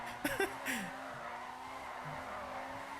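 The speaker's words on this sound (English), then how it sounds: "once you get it up to speed, it's easier to drift" A Dinka RT3000 drifting in GTA 5: a low, steady engine drone with a couple of brief tire-squeal bursts near the start, fairly faint overall.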